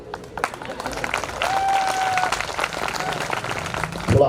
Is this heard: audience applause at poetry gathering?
yes